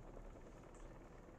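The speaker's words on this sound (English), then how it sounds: "a helicopter." Helicopter in the video game Spider-Man 2, a steady low rotor rumble with a faint pulsing throb held at a constant level throughout, no talk over it.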